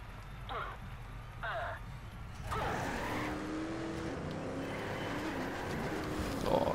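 Race car drifting in the Trackmania Turbo video game: an engine roar with skidding tire squeal builds midway and carries on to the end, while a voice talks over it.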